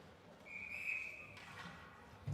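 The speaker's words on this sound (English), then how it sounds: "Whistle sounds as the puck leaves the ice." A referee's whistle at a high school ice hockey game, one sustained, fairly faint shrill blast from a distance over low rink ambience.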